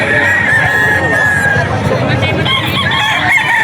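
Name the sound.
hiraw gamefowl rooster crowing at auction market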